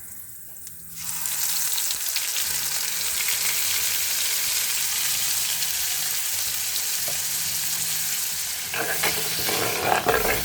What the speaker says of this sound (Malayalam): വെളിച്ചെണ്ണ നല്ലപോലെ ചൂടായി കഴിഞ്ഞാൽ അതിലേക്ക് കടുകും കറിവേപ്പിലയും ഇട്ട് ഒന്ന് പൊട്ടിച്ചെടുക്കണം